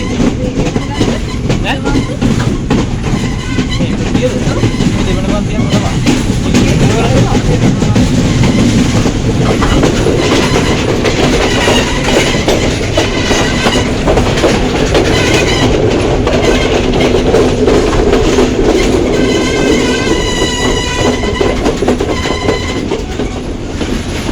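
The Badulla night mail train rolls along the rails on a ride from Polgahawela toward Demodara, a loud, steady rumble with rhythmic clickety-clack wheel beats throughout, with faint speech-like sounds in the mix.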